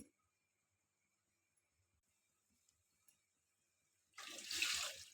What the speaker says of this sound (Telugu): 1 కప్పు రవ్వకి 4 కప్పుల నీళ్ళు పోస్తున్నాను.